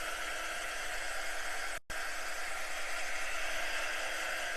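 A heat tool blows steadily over fabric to heat-set chalk paste ink on a pillowcase, a continuous airy whoosh held close and loud, broken by one brief cutoff near the middle.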